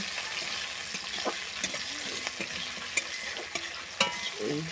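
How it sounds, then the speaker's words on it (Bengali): Flat beans sizzle quietly in a pan, a steady soft frying hiss broken by occasional clicks and scrapes of stirring, with no voices. "দিয়ে সামান্য সিমগুলো ভাজতেছি, ভালো করে ভেজে নেবো সিমগুলো।"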